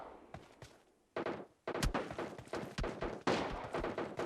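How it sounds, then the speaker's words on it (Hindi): Continuous gunfire in a PUBG Mobile tournament match, with rapid bursts of sharp, loud shots and thuds following one another with only brief gaps. "कंटिन्यूअस फायरिंग की जा रही है।"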